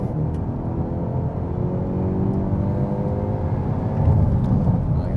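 A 2024 Hyundai i30 Sedan N launching hard in a 0-100 km/h run with some wheel slip off the line: a loud, continuous engine roar climbing steadily in pitch, heard alone without talk.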